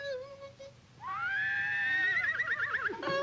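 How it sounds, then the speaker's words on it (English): A close, loud horse whinny rises and then trembles down in a long quavering neigh, with quieter sounds before and after. "Whinnies."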